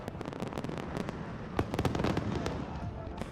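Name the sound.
fireworks at a film festival send-off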